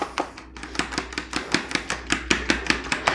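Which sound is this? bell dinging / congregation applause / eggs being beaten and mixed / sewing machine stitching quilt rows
eggs being beaten and mixed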